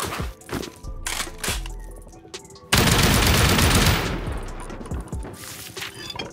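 Automated turrets in the video game Rust fire rapid bursts of gunfire during a raid on a large compound, loud and dense, swelling into sustained, continuous shooting that then fades into scattered shots.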